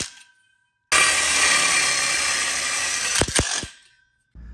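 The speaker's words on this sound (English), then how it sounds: "and then we'll go ahead and screw this in." A screw is driven in while assembling an outdoor kitchen grill cutout kit: a loud sustained mechanical whirring for over two seconds, ending in sharp clicks, then a short burst of further noise.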